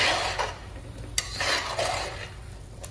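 Scraping stir of chili powder and ground black pepper in a pan for a Kerala mutton curry, a close, irregular metallic rasp with faint sizzle, alone without talk.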